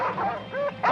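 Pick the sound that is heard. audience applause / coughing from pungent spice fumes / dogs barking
dogs barking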